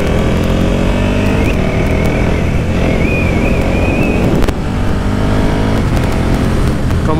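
A motorcycle engine roars steadily, close and loud, with the pitch rising and falling as it accelerates through the gears.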